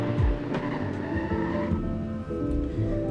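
An Audi RSQ8 brakes hard from 100 to 0, tires squealing and engine sound shifting close by in one short, loud burst.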